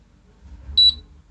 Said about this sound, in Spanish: posterior se activa la alarma como arranque o reset del microcontrolador